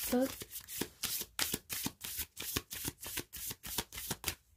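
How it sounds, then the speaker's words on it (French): Oracle cards from an inner-vision deck being shuffled and drawn by hand: a quick run of soft, crisp riffling flutters in a fast regular rhythm, close and fairly quiet, with a brief voice at the start. "je vais tirer 2 dernières cartes d'oracle, de l'oracle de la vision intérieure"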